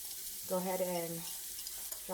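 Chopped onions hitting a hot pan sprayed with canola oil, a brief close sizzle that rises quickly and then settles into a quieter crackle, heard alone.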